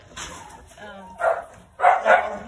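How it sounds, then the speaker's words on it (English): A few short puppy or dog barks, two close bursts toward the end, with a voice talking faintly underneath. "That's who you hear barking."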